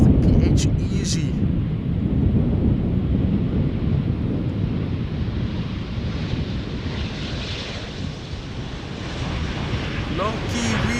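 An Embraer 190 jet airliner touching down at Schiphol, a broad, steady roar of engine and wind rumble heard from a distance, loud and continuous throughout with no clear voices.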